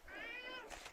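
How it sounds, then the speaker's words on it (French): A house cat gives a single drawn-out meow with a rising then falling pitch, close by but soft, followed by a short breathy tail. "Je suis désolée pour le chat qui va miauler."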